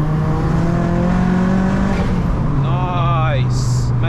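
A turbocharged Mk4 Vauxhall Astra fitted with a Saab engine, tuned to about 450 bhp, revs loudly and close by, with a sustained engine drone that climbs through the revs while people talk over it.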